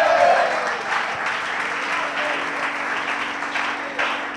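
A church congregation applauds together, a dense, sustained clatter of clapping that carries on steadily for several seconds before easing slightly, with a brief raised voice near the start.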